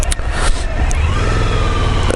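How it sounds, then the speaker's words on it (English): Engine of a 2014 Suzuki V-Strom 1000 ABS motorcycle on a road ride, a steady, loud drone with wind rush and a few brief higher-pitched spikes, no talking. "test riding a Suzuki V-Strom 1000"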